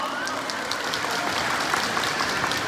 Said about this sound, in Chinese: 先给刚刚所有志工表演的团体一个热烈的掌声